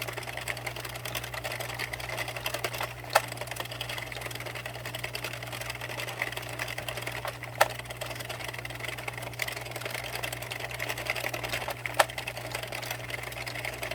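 An Addi King 22-pin knitting machine cranks out a small knitted pumpkin, giving a steady low mechanical hum with faint rhythmic clatter and a few sharper clicks at intervals.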